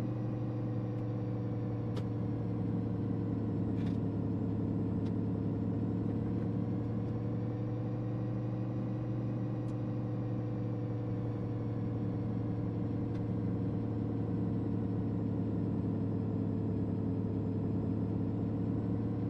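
A modded battle truck engine in American Truck Simulator idles and runs steadily, a continuous low mechanical drone that stays even throughout, with no talking.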